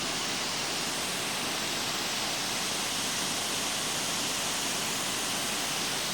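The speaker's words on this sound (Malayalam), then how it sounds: "ചെറിയൊരു വെള്ളച്ചാട്ടം പോലെ ഉണ്ട്" A small stream near Kavumkandam road pours over a little waterfall, a steady, even hiss of rushing water that holds unchanged from start to finish with no voices.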